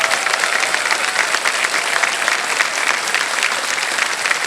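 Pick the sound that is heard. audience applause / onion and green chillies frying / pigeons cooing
audience applause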